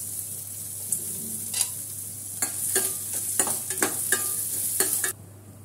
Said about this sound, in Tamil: இந்த உடச்சக்கடல தேங்காயெல்லாம் எல்லாத்தையும் கொஞ்சம் லேசாக வறுத்து எடுத்துக்கலாம்